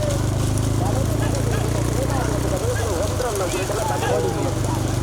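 Bulls thunder past in a small-bull cart race at Tiruppattur, their hooves clattering in a rapid, continuous rhythm under crowd noise and an announcer's voice.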